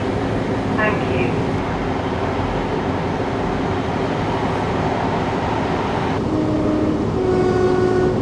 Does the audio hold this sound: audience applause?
no